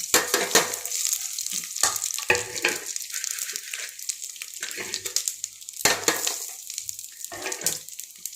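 Cinnamon, cloves and cardamom fry in hot ghee for egg biryani, giving a steady close crackling sizzle with bursts of spattering and stirring, no voices.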